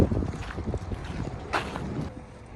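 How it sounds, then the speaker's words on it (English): Strong wind buffets the microphone on a windy day after a sandstorm in Quartzsite, Arizona, with flags flapping; low rumbling gusts rise and fall continuously, close and fairly loud, with no talking. "It's windier than heck."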